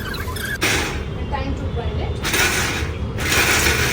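A kitchen grinder runs loud and continuous, churning ingredients during Ganesh Chaturthi preparations late at night, with a steady mechanical whir that surges in brief bursts.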